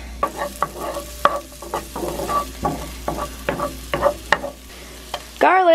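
Butter and onion frying in a pan, with repeated scraping stir strokes over a soft steady sizzle, close and moderately loud, ending in a brief louder rush.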